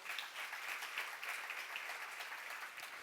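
A church congregation at a lecture claps in a sustained, even wave of applause, heard from a moderate distance and without voices.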